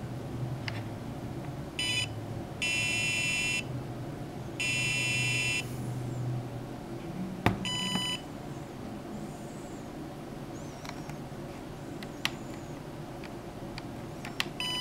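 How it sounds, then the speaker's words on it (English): A Dermaray UV disinfection unit emits short, evenly spaced electronic beeps showing it is switched on, repeating as bursts over a steady low hum, with no talking. "There's a beep occasionally just to let you know that the unit's on."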